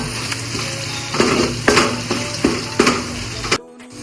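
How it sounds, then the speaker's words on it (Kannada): Ginger garlic paste sizzling in hot oil for Gowda-style mutton biryani, a loud continuous fry with repeated scraping stirs of a spoon against the pan, stopping abruptly near the end. "ಶುಂಠಿ ಬೆಳ್ಳುಳ್ಳಿ ಪೇಸ್ಟ್ನ ವಾಸನೆ ಹೋಗೋ ತನಕ ಸ್ವಲ್ಪ ಬಾಡಿಸ್ಕೊಳ್ಳಿ."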